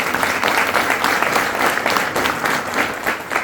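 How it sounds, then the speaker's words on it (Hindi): A burst of enthusiastic clapping from a crowd at a business presentation in Nashik, loud and sustained throughout with no voices over it. "तो इन सभी के लिए एक बार जोरदार तालियां."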